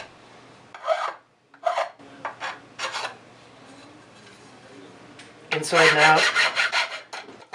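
A file rasps along the sharp edges of a wooden workshop piece in short, scratchy strokes, several brief bursts and then a longer, louder run of rubbing, with a person speaking briefly between strokes.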